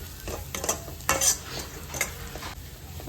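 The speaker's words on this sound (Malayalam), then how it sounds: "ഇത് നന്നായിട്ട് നമുക്കൊന്ന് വഴറ്റിയെടുക്കാം" Spices with pepper and turmeric being sautéed in a pan: a soft, steady sizzle with brief scraping stirs of a spoon, close and fairly quiet, no talking.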